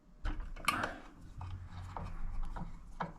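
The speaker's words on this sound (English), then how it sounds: "loosen this first nut, this first bolt I mean" Blade bolt being loosened by hand on a DeWalt DWS779 compound miter saw, with uneven ratcheting and scraping mechanical clicks up close, a handful of distinct turns with no speech.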